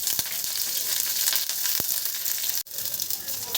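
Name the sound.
panch phoron and green chilli sizzling in hot mustard oil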